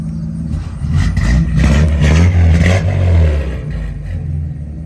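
An old hot rod with dual exhaust rumbles up close, with a deep, steady idle that swells with a couple of light revs.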